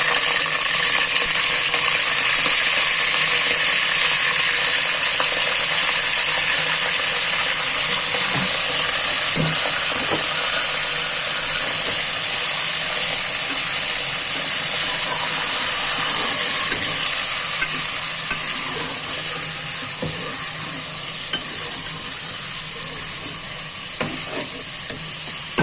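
Beef pieces fry with tomato in oil for a beef curry, a loud, constant close sizzle and hiss with occasional scrapes of stirring, lasting throughout with no talk.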